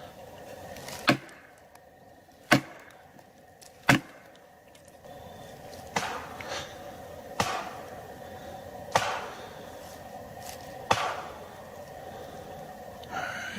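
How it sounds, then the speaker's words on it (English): Sharp wooden knocks struck on a tree deep in Appalachian woods, about seven loud isolated raps spaced one to two seconds apart over quiet forest ambience, with no talking. "I'm gonna try one last thing, tree knock."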